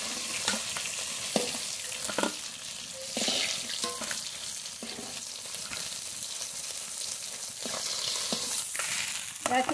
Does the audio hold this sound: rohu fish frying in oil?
yes